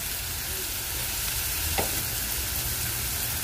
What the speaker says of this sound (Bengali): পেঁয়াজটা হালকা ভেজে নিয়েছি। এখন দিয়ে দিচ্ছি রসুন